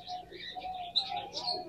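A male blue kamangar kasni pigeon gives soft, brief coos and chirping calls, close and fairly quiet, in a short continuous stretch.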